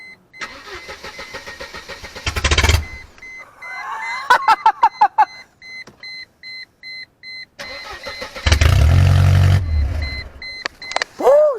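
A Mercedes W202 fitted with stainless steel headers and no mufflers cranks briefly, then goes through a run of beeps and clicks before the engine catches and roars loudly for a few seconds, with a final rising whine at the end.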